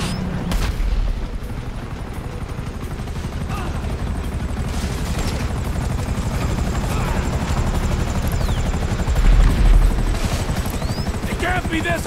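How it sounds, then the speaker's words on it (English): A helicopter in Grand Theft Auto 5 gameplay thrums with continuous rotor beating, loud and close, joined by bursts of gunfire and a heavy boom near the end. "That chopper's gotta be in sight, Steve!"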